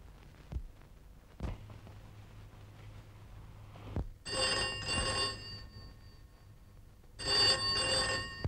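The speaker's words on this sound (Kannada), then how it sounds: "ಫೋನ್ ಬಂದಿದೇನೋ?" An old-style telephone bell rings indoors in two loud bursts of trilling rings separated by a pause, after a few faint knocks.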